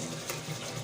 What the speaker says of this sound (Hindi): अब हम इसमें थोड़ा सा पानी शामिल करेंगे कि मसाले हमारे लगे नहीं